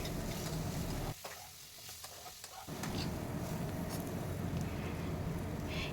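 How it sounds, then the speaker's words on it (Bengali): Kankrol (bitter gourd) and potato pieces frying in oil, a dense, close sizzle that briefly softens while the pan is stirred, then swells back to a full, steady hiss. "ওই তেলের মধ্যে আমি অ্যাড করে দিলাম দিয়ে কাঁকরোল আর আলুটাকেও আমি মিনিট তিন চার সময় ধরে ফ্রাই করে নেব"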